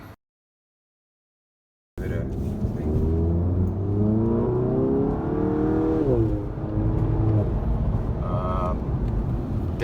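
A Volkswagen GTI Mk7 with stock downpipe and Cobb Stage 1 accelerates hard, engine note rising through the revs with a brief shift dip, loud and close with wind buffeting, after a short silent start.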